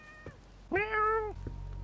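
A cat meows once in The Medium video game, a clear drawn-out tonal meow near the middle, preceded and followed by faint short sounds over a quiet background.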